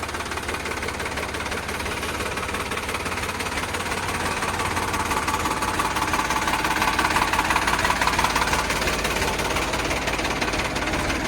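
A Sonalika DI 745 RX tractor's diesel engine idles steadily and close by, with an even, knocking rumble that holds at a constant level throughout.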